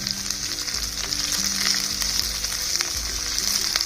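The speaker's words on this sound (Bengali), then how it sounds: "বড় করে কাটা ক্যাপসিকাম আর পেঁয়াজ ভেজে নেব। আমি এখানে সরষের তেল ব্যবহার করেছি" Large chunks of capsicum and onion fry in mustard oil in a kadai, giving a close, steady, bright sizzle that runs unbroken with no voices.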